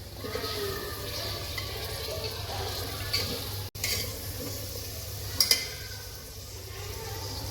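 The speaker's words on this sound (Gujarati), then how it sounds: "હવે આપણે એમાં પાપડી નાખી દઈશું." Papdi beans hit a hot pan for undhiyu and fry with a steady, even sizzle, with scraping stirring strokes throughout, one brief dropout and a couple of sharp utensil clinks near the end.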